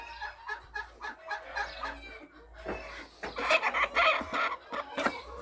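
Hens clucking and squawking close by in a farmyard among turkeys and geese, a rough irregular chatter of calls that grows louder and busier toward the end.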